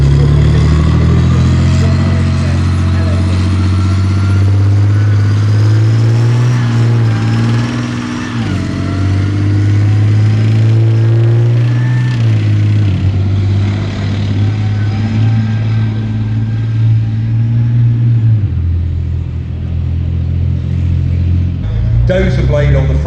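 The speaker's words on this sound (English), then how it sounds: "So this is a Challenger armoured repair and recovery vehicle." Challenger armoured repair and recovery vehicle with dozer blade, winch and Atlas crane, its engine rumbling loud and close at a steady idle with brief dips in pitch, while someone talks over it.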